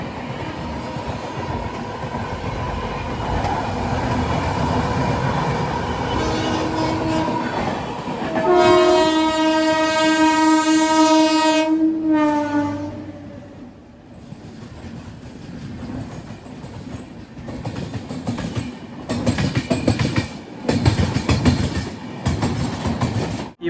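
The Tatanagar Express roars past near the line with a steady rumble, then a long, loud, sustained horn blast lasting several seconds, followed by rhythmic rattling of passing wagons.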